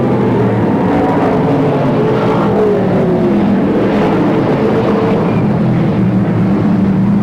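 Sprintcar engines roar together around a speedway oval during a race in the 1983/84 season, a dense and constant loud drone of several cars with revs that rise and fall, with no talking.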